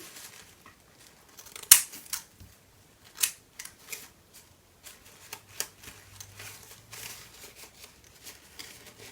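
Scissors snip and trim a paper Halloween ghost decoration, with sparse, irregular crisp cuts and light paper rustling at close range in a quiet room.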